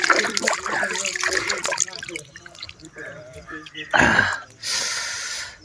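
Cold river water splashed onto a face at a riverside temple site in Kumshet, Akole, with wet splashing and dripping bursts near the end, following a stretch of nearby talking.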